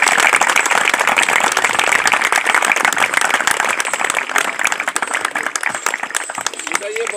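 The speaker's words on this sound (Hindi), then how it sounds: "चलो जोरदार ताली बजा दी।" A crowd claps loudly at a stadium race event, a dense, continuous patter of applause with voices mixed through it, fading slightly near the end.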